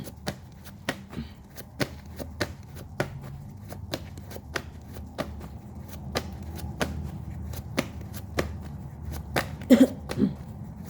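A deck of tarot cards being shuffled, producing repeated sharp riffling snaps and taps in an irregular rhythm, close and clear, with a brief murmur near the end.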